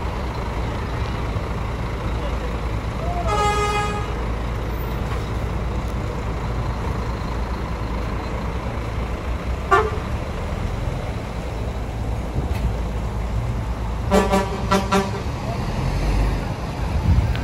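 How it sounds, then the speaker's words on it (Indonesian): A large tronton truck slowly reverses to change its parking spot, its engine rumbling steadily in the background among roadway noise, with short horn-like toots and a brief burst of repeated reversing beeps near the end. "ini ada Nonstop Putra Juang yang mulai mundur untuk pindah posisi parkir"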